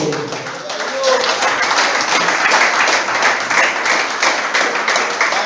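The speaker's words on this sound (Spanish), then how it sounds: "Aplausos." Congregation applauding inside a church during a Spanish-language sermon, a steady wash of many hands clapping that fills the whole clip, with faint voices mixed in.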